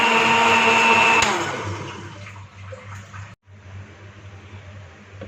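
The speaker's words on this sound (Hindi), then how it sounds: "हाई स्पीड पे ब्लेंड कर लेंगे।" Blender jug whirring at high speed, crushing rusk into milk for Peshawari kheer; a loud, steady motor roar for about a second and a half, then dropping to a lower, rougher churning hum that runs on with a brief cut.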